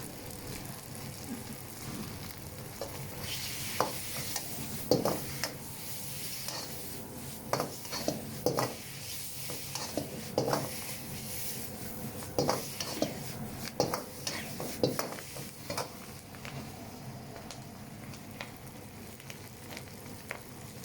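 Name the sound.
stir-frying beef pad see yew noodles in a wok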